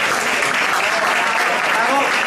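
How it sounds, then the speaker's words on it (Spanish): Audience applause at a television awards ceremony, dense and continuous clapping from a large crowd filling the whole moment, loud and sustained without pause. "Marilo Montero. Un aplauso para ella."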